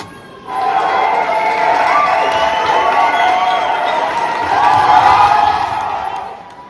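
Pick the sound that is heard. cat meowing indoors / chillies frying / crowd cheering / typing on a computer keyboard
crowd cheering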